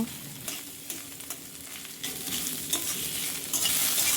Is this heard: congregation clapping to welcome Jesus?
no